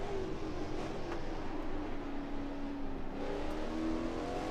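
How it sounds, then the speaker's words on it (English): Race car engine in the Assetto Corsa racing game, a big, throaty note holding a steady, continuous drone with gradual pitch shifts as it revs through the run. "Big, throaty engine."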